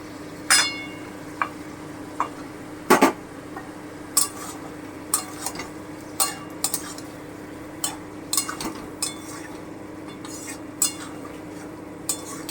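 A spoon scrapes and clinks against a pan as chicken cooks with spice paste, sharp metallic taps repeating irregularly over a faint, steady sizzle.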